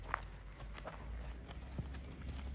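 A mare being ridden during horse riding and training, her hooves clip-clopping in an uneven series of soft, moderately distant thuds over a steady low background rumble, with no talking.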